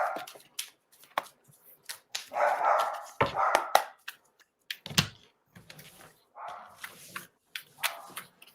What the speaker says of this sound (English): She's just waiting for her doggies to stop barking.